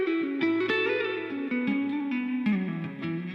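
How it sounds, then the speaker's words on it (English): Electric guitar plays slow single notes and chords through an ambient reverb pedal, each pluck trailing into a lingering wash of decay. "It's a good slow song reverb."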